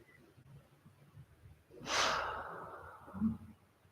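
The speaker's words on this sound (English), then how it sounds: "Taking one more deep breath here." A single deep breath taken during a neck stretch, a close, breathy rush of air lasting over a second, followed by a softer exhale in a quiet room.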